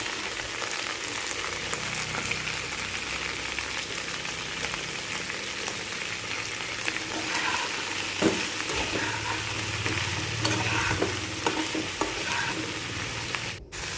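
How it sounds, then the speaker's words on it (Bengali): Okra frying steadily in oil with salt and turmeric, a continuous close sizzle broken by irregular scraping stirs, ending in a brief louder clatter. "তো এবারে এটারে একটু লবণ হলুদ দিয়ে ভাজা লবণ"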